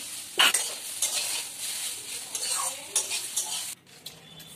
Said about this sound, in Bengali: এইভাবে কিন্তু ভাজা করে নিতে হবে, খুব ভালো করে ভাজা করে নিতে হবে।